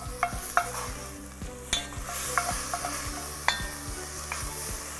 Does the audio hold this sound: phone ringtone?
no